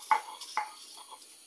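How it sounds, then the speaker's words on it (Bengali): Jackfruit-seed bharta is ground by hand on a flat stone slab with a grinding stone, giving a couple of short, rough scraping strokes and fainter rubbing between them, close by with no talk. "এই যে শিলপাটায় ভর্তা বাটতেছি।"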